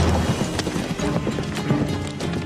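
Horses' hooves clip-clop at close range in a steady walking rhythm, with a brief neigh-like call and some background rustle, no talk over it.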